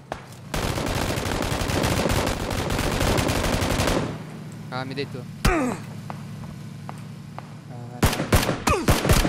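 Rapid automatic gunfire rattles continuously in the video game PUBG Battlegrounds, followed by scattered single shots, while players talk over it.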